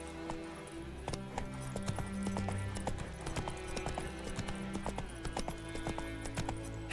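Roach, a horse in The Witcher 3, gallops in a quick steady run of hoof clip-clops, loud and close, with a brief neigh, and no one talks.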